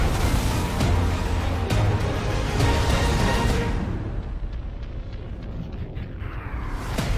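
Heavy artillery cruisers open fire in a PC naval combat game: loud, dense rumbling blasts and bursts fill the first few seconds, then fade into a lower, scattered battle din with occasional sharp pops.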